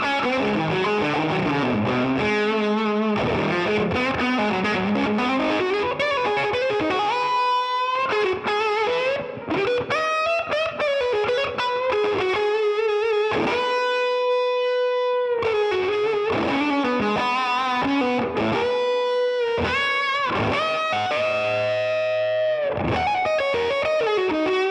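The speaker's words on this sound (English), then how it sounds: "I went to the bridge pickup, turned on a fuzz pedal." Gibson Firebird electric guitar played on the bridge pickup through a fuzz pedal, a loud, thick distorted melodic line with sustained notes and bends, fast runs and ringing held tones, heard alone with no talking.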